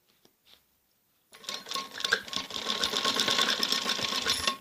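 A sewing machine stitches around the curved neck of a kameez jacket, its motor starting after a short quiet pause and then running as a steady, continuous close-up whir.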